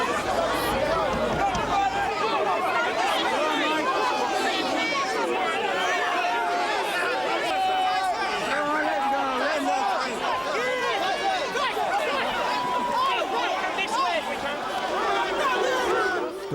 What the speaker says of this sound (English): When he visits, the crowds arrive.